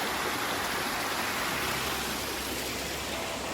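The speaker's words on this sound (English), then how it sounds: "Here's our creek." A creek on a mountain homestead rushes steadily, a constant broadband wash of flowing water that stays even and fairly faint throughout, with no voices.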